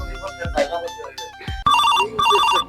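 A phone ringtone plays twice in loud, even bursts of repeated electronic tones, following short comic exchanges in a Bangla farce.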